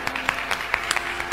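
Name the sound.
audience clapping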